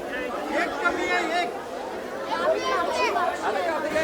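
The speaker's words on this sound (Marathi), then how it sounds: "खूप गर्दी आहे" Dense chatter from a crowded temple queue at Bhimashankar during the monsoon, continuous overlapping voices forming a steady hubbub, with nearby speakers standing out now and then.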